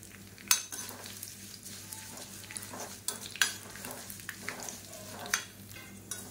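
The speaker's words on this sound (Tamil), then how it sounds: "அதையும் இதோட இந்த எண்ணெயில் போட்டுக்கலாம். இது எல்லாமே நல்லா பொரியட்டும்." Five or six small lumps of asafoetida frying in oil in a kadai, with a steady soft sizzle and occasional sharp clinks of stirring throughout.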